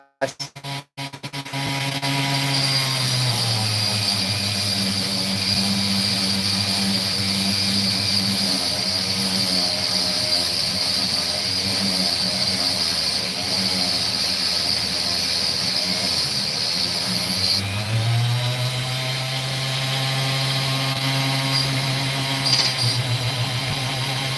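A power tool grinds an opal stone with a continuous high whine and harsh rushing hiss, close and loud, shifting in pitch where the tool bears down and eases off on the stone, with no talking.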